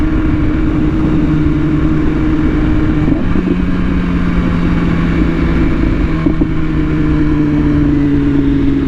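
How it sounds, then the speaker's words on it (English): BMW S1000RR sport motorcycle engine running loud and close, a sustained droning rev with wavering pitch and a few sharp pops, no talking. "It's not making bad pops, it's making just like cool pops, like BMW pops."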